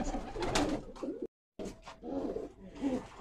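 Pigeons coo in a rooftop breeding setup, several soft, rolling, throaty calls close by, broken by one brief moment of silence.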